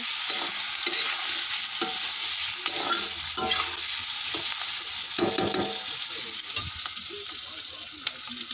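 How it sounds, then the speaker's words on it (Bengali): Onions frying in a pan for an egg curry, a steady loud sizzle with intermittent stirring scrapes throughout, no voice present. "দিলাম ওখানে ভেজে নেব একসাথে পেঁয়াজ পেঁয়াজটার সাথে ভেজে নেব"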